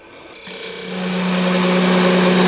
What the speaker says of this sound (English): You can come in with a bowl gouge